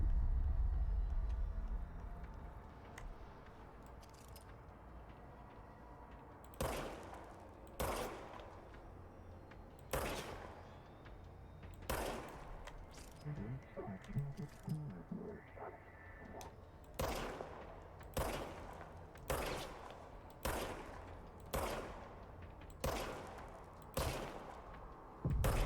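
A gun in the video game Control fires single sharp shots in an uneven sequence, about fifteen loud cracks spaced a second or two apart, with quieter ambient game sound between them and no talk.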